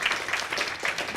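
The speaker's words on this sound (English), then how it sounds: "Let's give Sarah a round of applause." Meeting audience applausing briefly, a dense wash of many hands clapping at moderate volume with no voices over it.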